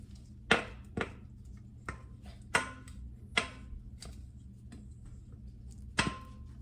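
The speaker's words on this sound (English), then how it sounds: "So now we're gonna mix our bananas into our dry ingredients" Spoon or spatula knocking against a bowl while mashed bananas are stirred into dry banana nut muffin ingredients, a series of sharp, fairly quiet taps at an irregular rhythm over soft background scraping.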